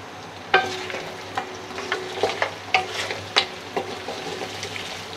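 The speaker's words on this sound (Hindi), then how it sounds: "इसमें हल्का सा हम इसे फ्राई करेंगे। थोड़ी सी हमने फ्लेम तेज की है" Mutton karahi sizzling and frying in a pan on a high flame without added oil, a steady crackle broken by repeated sharp stirring scrapes, close and fairly loud with no talking.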